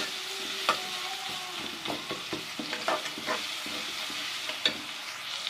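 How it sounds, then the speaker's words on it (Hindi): Garlic ginger paste fries in a pan with a continuous oily sizzle, broken by scattered clicks and scrapes from a spoon stirring against the metal. "अब यहाँ पर हम एक खाने का चम्मच लहसुन अदरक का पेस्ट शामिल कर देंगे और इसको भी एक डेढ़ मिनट फ्राई करेंगे"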